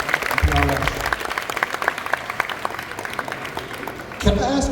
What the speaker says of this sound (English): So can we give one more round of applause for Hiend Guitars and PRS?